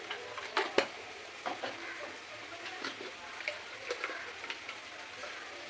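A spoon stirs spices with marinated chicken in a hot frying pan for palak chicken, giving a soft, continuous sizzle punctuated by light scraping taps against the pan, close and quiet.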